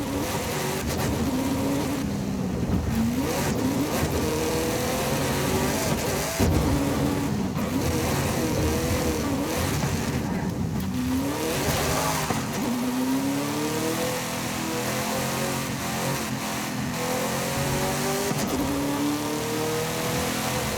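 Race car engines in a racing video game, with several passes of rising and falling revs and gear shifts over a constant, loud engine drone lasting the whole stretch, no voices over it.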